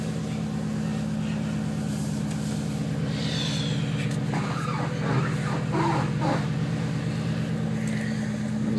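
A 2008 Shelby GT500 engine running just after a cold start in 9-degree freezing weather, having sat for three weeks. It gives a steady, loud low drone with a rough idle throughout, without speech.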